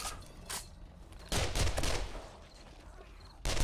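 Gunfire from 7.62 ammo in the video game 7 Days To Die, with short bursts of shots near and loud, a sustained volley in the middle and another burst at the end, without any talk.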